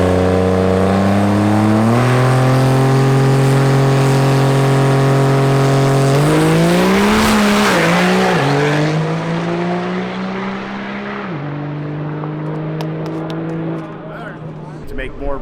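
A drag racing truck at the Ultimate Callout Challenge 2022 drag race builds boost on the line and launches. The engine roars loud and close, its pitch stepping up in surges before it fades into the distance.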